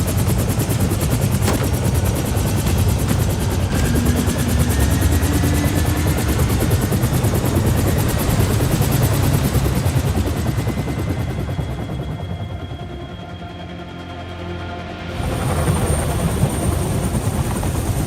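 Helicopter in the video game 007 First Light: a loud, continuous rotor chop holds steady for most of the clip, dips briefly, then swells back up.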